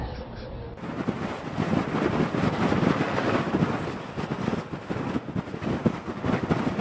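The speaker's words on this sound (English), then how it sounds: "Wind speeds have been increasing." Strong wind from a dust storm blasting across an outdoor microphone, a loud, steady roar with gusty buffeting that continues throughout with no talking.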